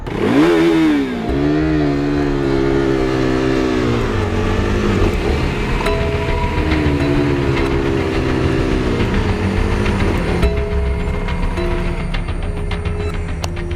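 A motorcycle engine running loud and steady close by, its harmonic drone rising and settling as the throttle shifts, continuous for many seconds with no speech over it.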